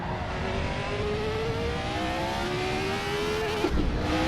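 A loud 1970s Formula 1 car engine in Assetto Corsa roars steadily at high revs, pitch climbing through gears, with a brief drop and a bump near the end.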